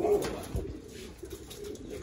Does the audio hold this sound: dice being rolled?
no